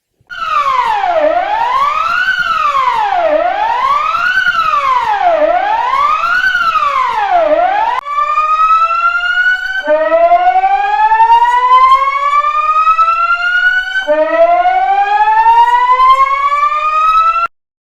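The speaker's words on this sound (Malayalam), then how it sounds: "മുന്നറിയിപ്പ് സൈറണുകളുടെ പ്രവർത്തന പരീക്ഷണം നടത്തി നാലു മണിക്കാണ് സൈറൺ മുഴങ്ങിയത്" A loud civil defense warning siren, sounding in a test, wails in repeated rising and falling cycles, then switches to long, steadily rising tones.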